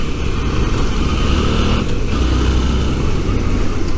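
A Suzuki V-Strom 650 motorcycle riding along a road, a steady loud engine drone blended with rushing wind noise, continuous and close without talk.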